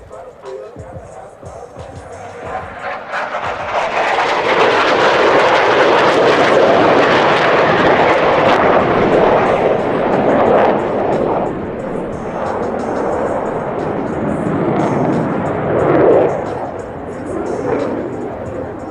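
US Navy Blue Angels jets roar overhead at the 2022 Thunder Over Dover air show, a loud sustained rumble that swells and lingers for many seconds as the aircraft cross show center, with crowd voices faintly beneath.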